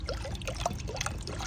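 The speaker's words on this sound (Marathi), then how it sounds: "चला, हे मटकं मी पूर्ण भरलं आहे" Water trickles and gurgles as it is poured into a clay pot set out for birds, a close, steady splashing pour that lasts the whole short moment.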